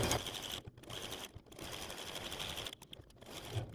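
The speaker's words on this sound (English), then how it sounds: "I am just going to do a stay stitch here and go down and around all 4 sides of the hat band" A sewing machine stay-stitches around all four sides of a quilt block's hat band in a snowman quilt, running in close rapid bursts with short pauses between runs.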